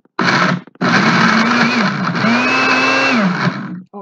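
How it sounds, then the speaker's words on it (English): A small kitchen blender blends rambutan with a loud, steady motor whir whose pitch dips and rises as the load shifts. It cuts out briefly near the start, then runs continuously until it winds down at the end. "So I'm going to blend this."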